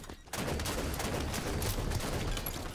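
Gunfire in Halo 5: Guardians arena multiplayer, a dense continuous burst of loud shots and game action filling the whole moment without a clear break.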